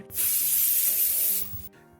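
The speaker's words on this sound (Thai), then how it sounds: "ไอล้มไปดิ้นทุรนทุรายเพราะโดนสเปรย์พริกไทยฉีดใส่หน้า" Pepper spray fired straight into a face as a dramatic sound effect: one loud, continuous pressurized hiss lasting over a second, then cutting off abruptly, with a faint rustle after it.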